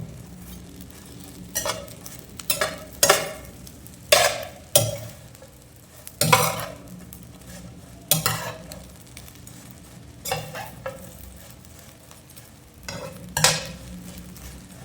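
Shredded mutton with pepper sautéing in oil for mutton rotti. Repeated sharp scraping strokes of a spatula against the pan come in irregular bursts over a low, soft sizzle.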